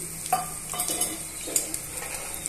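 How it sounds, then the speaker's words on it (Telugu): Chopped onions frying in a pan for an idli and dosa chutney, a soft steady sizzle with a few stirring scrapes and light utensil clicks, close and alone with no talking. "ఇందులోనే తరిగి పెట్టుకున్న ఉల్లిపాయ ముక్కల్ని యాడ్ చేసుకోవాలి"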